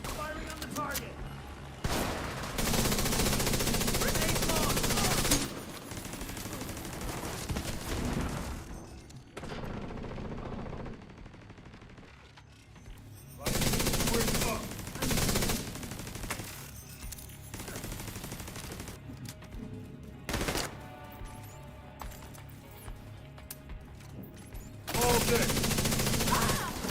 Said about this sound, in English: Firing on the target.